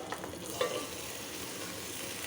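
Turmeric, chilli and coriander powders with onion, green chillies and ginger-garlic paste frying in plenty of oil, a soft steady sizzle with a faint stir or clink early on, quiet and close, no voices.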